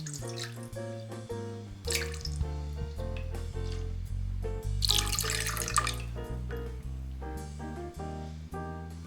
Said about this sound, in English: Add water, sake, and mirin to the pan used earlier.